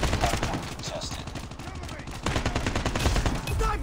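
Rapid AK47 automatic fire in the shooter game Call of Duty Mobile, dense rattling bursts filling the whole few seconds, loud and close, with a brief dip in the middle before firing resumes.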